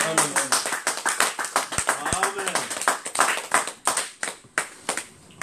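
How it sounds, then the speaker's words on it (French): A church congregation applauding for Jesus, rhythmic group clapping in a steady beat that is close and lively, with voices talking and calling out over it before the clapping thins toward the end. "Est-ce qu'on peut applaudir pour Jésus?"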